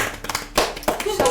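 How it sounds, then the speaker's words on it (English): A small group claps for shared artwork at a drawing meetup, a short burst of scattered, uneven hand claps, close and fairly loud, with voices mixed in. "One applause for you guys."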